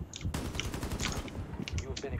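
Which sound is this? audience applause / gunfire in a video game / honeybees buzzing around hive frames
gunfire in a video game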